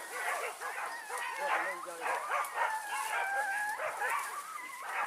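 Hunting dogs bark and yip continuously during a wild boar hunt in rural West Sumatra, rapid overlapping barks at close to moderate distance, with people talking underneath.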